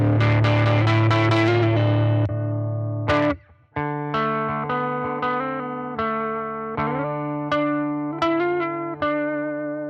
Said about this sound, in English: So let's get a little distortion on this, see what it sounds like.